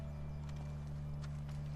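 Faint clip-clop of horse hooves in The Last of Us video game, a few soft, scattered hoof strikes sitting low under a steady droning hum, with no talking.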